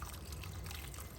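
Warm water pours steadily over smoked fish to wash it, a continuous soft trickling wash at close range with no voices.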